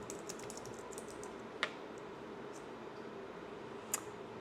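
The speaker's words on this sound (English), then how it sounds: "So I'm just going to type in my business name." Fingers tap out a business name on a computer keyboard, a quiet run of light, quick clicks in a hushed room, with two sharper key strikes standing out among the soft typing.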